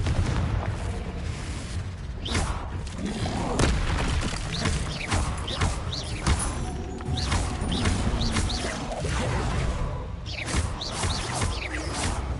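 Repeated Confringo spell blasts go off in a Hogwarts wizarding video game, sharp booming bursts with crackling mechanical debris spaced irregularly over steady game ambience, and faint talk in the background.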